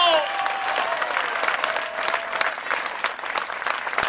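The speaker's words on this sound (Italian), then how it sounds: "Forte l'applauso per loro." Loud audience applause at an outdoor Ferragosto 2014 cabaret band show in Paceco, Italy. Dense, crackling clapping from a large crowd, with a brief whistle at the start and scattered cheering voices mixed in.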